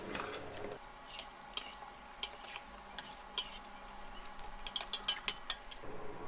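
Chicken rogan josh being stirred in a pot over medium heat, repeated scraping and clinking of a spoon against the metal over a faint sizzle.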